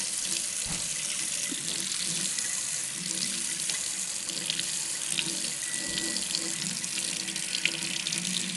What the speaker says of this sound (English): I highly recommend rinsing it under nice hot water.